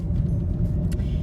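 Steady low engine rumble and road noise from inside a moving car, continuous and close, with a faint brief high tick near the end and no talking.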